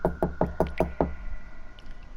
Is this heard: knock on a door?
yes